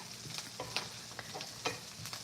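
Onions frying and browning in a pan sizzle faintly, with irregular clinks and scrapes from stirring against the metal.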